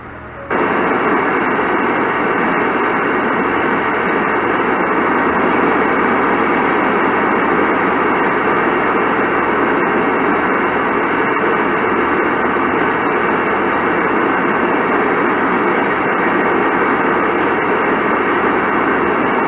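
Simulated jet engines hold a constant loud whine and rumble as the airliner sits lined up on runway 4 in Microsoft Flight Simulator X, ready for takeoff toward Recife. The sound stays unchanging throughout.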